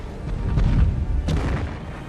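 The battleship Musashi fires its main guns at the Yamato in a naval battle simulation, heard as deep rolling booms with one sharper report partway through, and no voices.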